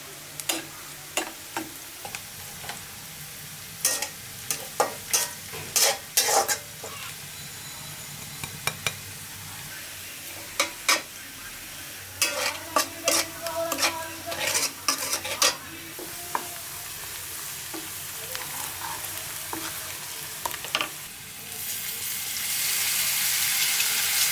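Onions frying in oil until reddish, a continuous low sizzle punctuated by many sharp clinks and scrapes of a utensil against the pan, with running water near the end.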